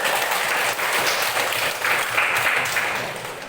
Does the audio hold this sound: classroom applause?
yes